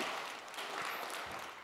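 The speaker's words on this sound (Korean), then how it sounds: "박수로 하나님 앞에 영광 돌리겠습니다." A church congregation at a Sunday worship service in Busan claps together, a steady, soft wash of applause that carries evenly from start to finish.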